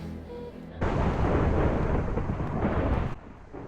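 Thunder in a storm rolls in as a heavy, sustained low rumble lasting a few seconds before fading, loud and broad, with no speech.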